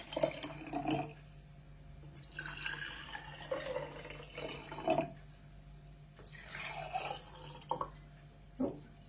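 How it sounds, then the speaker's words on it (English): Water poured from a jug into a row of jars: several separate bursts of splashing, trickling liquid with gurgling drips, pausing between pours, close up and without talk. "get our jug of water, and we're going to fill all of our jars to about the same amount of water in each one"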